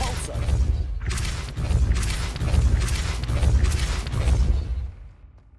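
A Depulso spell cast in the Hogwarts Legacy video game: loud, booming magical blasts with whooshing bursts, repeated in several surges over steady low rumble, then fading out.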